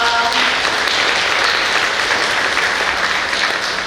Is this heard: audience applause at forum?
yes